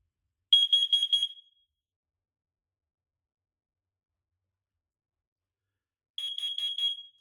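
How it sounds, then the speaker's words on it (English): A home smoke detector gives its carbon monoxide signal, a burst of four quick shrill beeps, a long silence, then another set of four, all loud and close. "And now the carbon monoxide signal."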